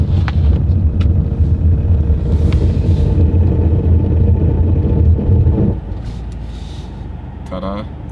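A car accelerates to 60 km/h on a snowy test surface, a loud, heavy rumble with road and engine noise that drops sharply about two-thirds through as it slows.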